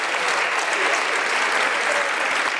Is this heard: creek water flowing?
no